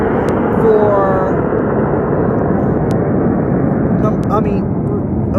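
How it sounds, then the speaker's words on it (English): A jet plane passes overhead as a loud, continuous roaring rumble that dominates throughout, with a few faint clicks and squeaks at the edges. "that was jet plane that just went by right there"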